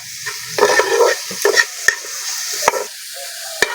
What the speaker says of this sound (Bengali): ফুলকপিটা ভালো করে ভেজে নিয়েছি